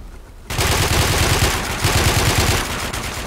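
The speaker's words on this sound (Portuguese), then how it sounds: "Errei o tiro todo." Rapid automatic gunfire from an AUG rifle in the Warmode online shooter, loud continuous bursts starting abruptly after a quiet moment and running to the end with a brief dip midway.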